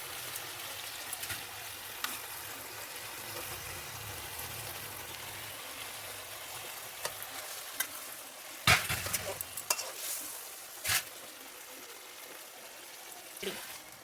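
Fish fries in spiced masala in a pan with a faint, steady sizzle, later interrupted by several sharp clatters and scrapes of stirring.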